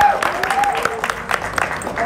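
Applause from an audience at a song promotion event, a brief dense burst of clapping with voices mixed in.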